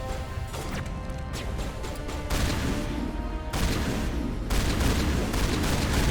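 Shotgun blasts crash in close combat in Mass Effect 1, loud heavy bursts spaced a second or so apart over a constant rumble of battle.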